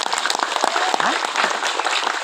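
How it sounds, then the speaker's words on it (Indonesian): An audience at a Balinese religious gathering led by a priest claps together, a short burst of dense applause with a few murmuring voices mixed in. "Tepuk tangan nomor niki."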